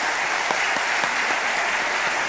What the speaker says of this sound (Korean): 우리 수고한 청년들을 위해서 박수 한번 해주시면 좋겠습니다.